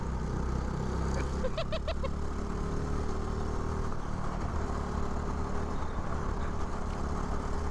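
Go-kart engines racing on a track, with a steady loud drone of small engines at close range and shifting pitch as the karts accelerate and ease off.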